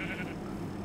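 A sheep bleats in one sustained, wavering call, close and fairly loud, with no talking over it.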